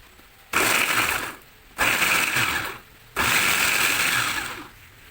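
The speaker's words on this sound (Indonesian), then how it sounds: "Kemudian jahenya juga dihaluskan." An electric blender grinds ginger, tomato and spices into a paste for a Padang-style shrimp dish, running in three loud whirring pulses of about one to one and a half seconds each, separated by short pauses.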